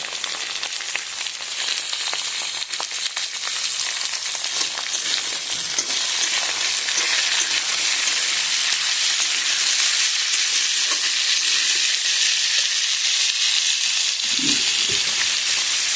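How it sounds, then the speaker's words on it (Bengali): Mixed vegetables frying in a pan with salt, a steady loud sizzle that runs the whole time, with a few louder bursts near the end as they are stirred. "এবার পরিমাণ মতো লবণ দিয়ে এই সবজিগুলো অল্প ভেজে নিন।"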